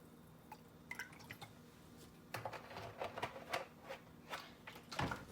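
White vinegar is poured into a measuring cup in a kitchen, heard as faint dripping and splashing liquid that builds toward the end, close and quiet.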